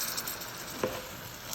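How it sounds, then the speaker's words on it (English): A tomahawk steak sizzles in a pan, a soft, steady hiss with a faint crackle partway through, heard up close and alone. "we're gonna let it continue to sizzle a bit"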